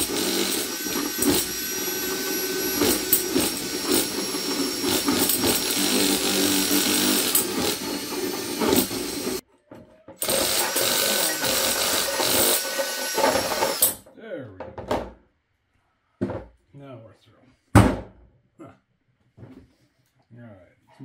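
Power drill fitted with a hole saw cuts into an enclosure, a loud continuous whine and grind for about nine seconds, then a second steady burst, ending with scattered knocks and brief handling noises.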